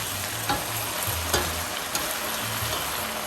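Peppers and onions fry in a pan, giving a steady close sizzle with a few soft stirring knocks and scrapes spaced through it, and no voices.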